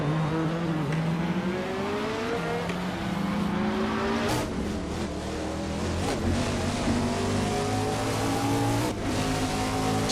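A 2017 Aston Martin Vulcan AMR Pro race car in a racing video game screams through rising revs and gear shifts. The loud engine holds throughout with brief tire and passing sounds.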